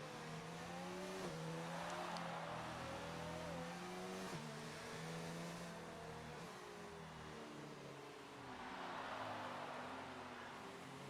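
Several race cars cruise together on a victory lap around the Singapore street circuit in a PC racing game, engines droning steadily with shifting pitch and occasional revs, loud and continuous throughout.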